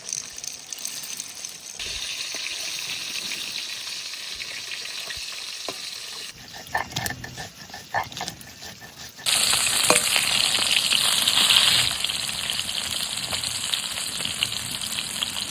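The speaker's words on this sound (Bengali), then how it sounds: "পান্তা ভাত দিয়ে খাওয়ার জন্য মাছগুলো বেশ কড়কড়া করে ভেজে নিয়েছি" Fish frying crisp in a pan: a steady, close sizzle and crackle of hot oil runs throughout, swelling louder and brighter toward the end, with occasional stirring clinks and no talk.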